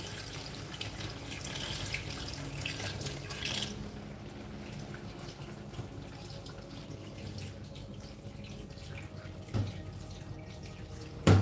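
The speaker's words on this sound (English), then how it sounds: "Now I'm adding enough water according to the level of the soup I want to make as well." Water runs steadily into a soup pot on a home stove, a continuous close rush of pouring with a brief splashy accent near the end and no talk.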